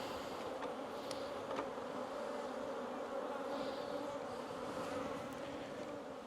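Honeybees buzz in an open beehive, a steady low drone from many wings close by, constant and even with no talking.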